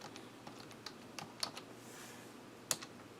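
Quick, quiet keystrokes tap on a computer keyboard as a search word is typed, a few uneven clicks close by over soft room noise.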